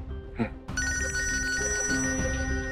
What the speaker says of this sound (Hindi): ताई का फोन।